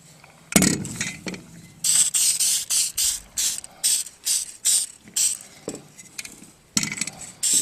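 A ratchet tightens the bolts that hold a chest freezer hinge back in place, giving close, rapid bursts of clicking in an uneven rhythm broken by brief pauses.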